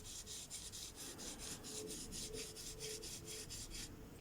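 Worn ball bearing in a car's front suspension stabilizer link, giving a steady, faint, gritty rasping rattle as the part is worked back and forth by hand, close up.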